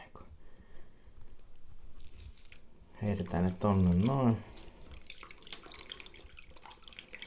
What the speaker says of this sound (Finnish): Vähän puristellaan tätä saippua vettä pois noista